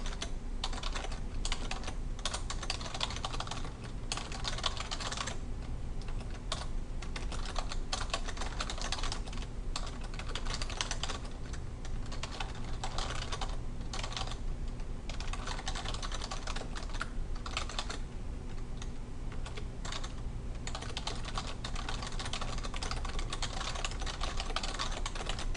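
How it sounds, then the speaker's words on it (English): Steady typing on a computer keyboard, a long unbroken run of close, rapid key clicks with brief pauses between bursts, alone without talk. "I'm going to go ahead and type it out."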